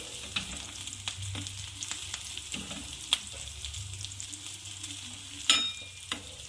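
Sabudana chivda roasting and frying in a pan for a crispy fasting snack, a steady low sizzle broken by scattered scraping stir clicks and a couple of sharper metallic taps, with no talking.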